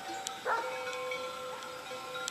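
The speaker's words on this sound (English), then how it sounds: "you're going to hear this, it's the sheep with those big sheep dogs" Large sheepdogs guarding a flock of sheep on a hillside give one fairly distant bark, followed by a few fainter yips over a quiet outdoor background.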